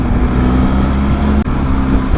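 Twin-cylinder engine of a Benelli TRK 502X adventure motorcycle running steadily up close, a constant low rumble with a brief dip partway through, no talk over it.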